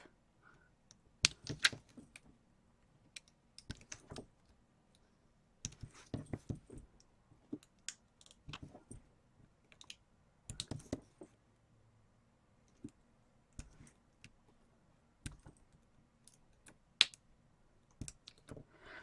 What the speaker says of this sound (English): I think I'm going to cut the rest of this just with the craft knife